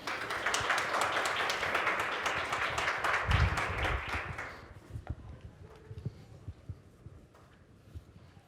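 Dense audience applause at a white coat ceremony for an optometry college class. Loud and steady for about four seconds, then it thins to scattered claps and hall noise.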